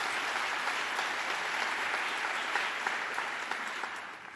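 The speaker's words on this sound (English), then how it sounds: "and I applaud them, and you should too." Sustained audience applause fills a hall in Brooklyn during a New York governor's State of the State address, steady and dense across the whole stretch with no voice over it, tapering slightly at the end.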